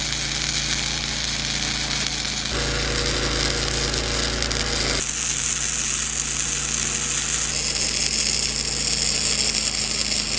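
MIG welding axle saddles onto a camper trailer's springs with an Arc Captain MIG 200, a loud continuous crackling buzz in several unbroken runs with sharp changes in tone between beads.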